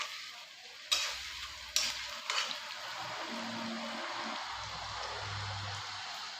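Onions and whole spices (cinnamon, cloves, curry leaves, chilli) frying in a pan for fish curry, a soft steady sizzle broken by a few sharp clanks of a stirring utensil, fairly close, no speech.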